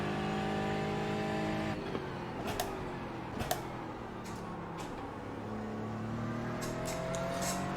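An Aston Martin GT race car engine in iRacing, racing against Porsche Caymans, revs and drones steadily as it powers out of slow corners, with rising and falling pitch and a few light ticks and clunks.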